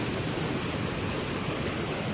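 Floodwater pours over a small dam during heavy monsoon rain in Konkan, making a dense, constant roar that is near and even throughout, with no talking.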